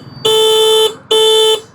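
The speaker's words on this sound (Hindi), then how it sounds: "और एक बार मैं आपको हॉर्न इसका सुना देता हूँ।" Two long, steady electronic horn beeps from an electric scooter, each under a second, with a short gap between them. Loud, close and without talk.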